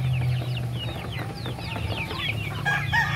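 Chickens on a small poultry farm cluck and chatter continuously nearby, with overlapping calls and a steady low hum underneath.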